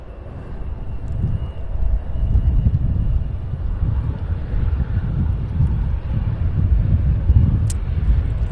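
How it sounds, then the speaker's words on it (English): A DHL Boeing 767-300 operated by ABX Air arriving at Cincinnati's CVG airport, heard as a steady low engine roar mixed with wind rumble on the microphone, holding constant throughout. "Coming in from Atlanta in a Boeing 767-300 series."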